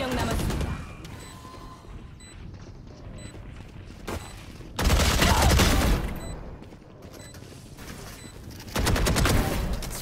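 Bursts of rifle gunfire in a video game come in rapid volleys, loud and close, separated by quieter stretches, with talk over the action.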